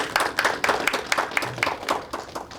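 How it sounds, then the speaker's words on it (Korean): Audience applause at a startup showcase event, a short burst of distinct rhythmic claps, fairly close and moderately loud. "다시 한번 주식회사 IP샵의 김재설 의장님께 큰 박수 부탁드리겠습니다"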